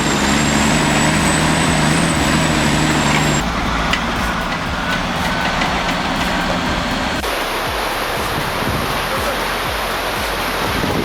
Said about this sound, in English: Listen to that turbo scream.